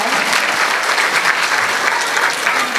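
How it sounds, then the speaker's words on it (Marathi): An audience at a kindergarten gathering claps together in a dense, loud burst of applause that carries steadily throughout. "त्यामुळे त्यांच्यासाठी जोरदार टाळ्या"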